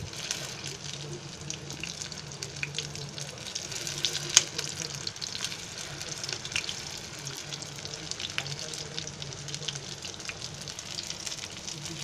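Bread rolls fry in oil and are turned in the pan: a steady, moderate sizzle with occasional light clinks and scrapes, close up and without talk.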